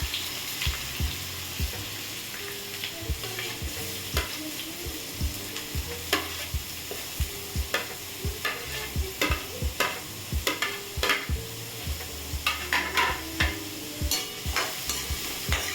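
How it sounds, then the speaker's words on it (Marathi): Finely chopped onions and green chillies frying in hot oil for Mumbai-style egg bhurji, a steady sizzle broken by frequent close scraping and clinking of a spoon stirring in the pan, with a background hum throughout. "आता आपण याच्यात बारीक चिरलेले कांदे घालून घेऊया."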